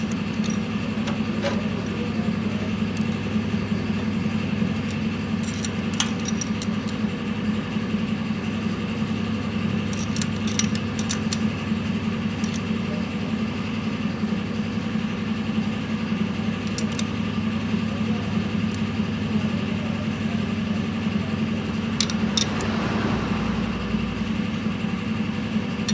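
A modified Mahindra Arjun tractor engine runs steadily, a loud, constant low drone with a strong hum and sporadic metallic ticks and clicks throughout, without talk.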